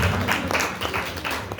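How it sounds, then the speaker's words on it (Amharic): An audience claps together in a burst of applause, a dense steady patter of many hands held at an even level for under two seconds. "እስኪ አንዴ ጭብጨባ ለዛ"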